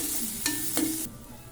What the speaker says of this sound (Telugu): ఇప్పుడు బాగా ఫ్రై చేసుకుందాం